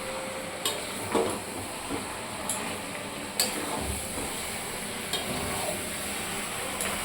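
Spice masala for a mutton-fat green jackfruit curry cooks down in a pan with a splash of water, giving a steady soft sizzle with occasional scrapes and clicks of a spoon stirring against the pan.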